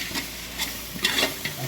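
Ginger garlic paste sautés for dum biryani, and a spoon scrapes the pan in several quick strokes over a soft, continuous sizzle. No voices are heard.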